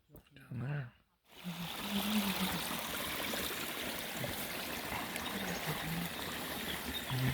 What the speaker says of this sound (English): Our first river crossing.